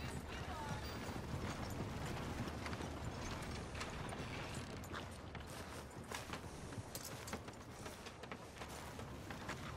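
Horse hooves clip-clopping in the video game Red Dead Redemption 2, a faint steady walking rhythm of hoofbeats with light tack rattles under a quiet ambient bed.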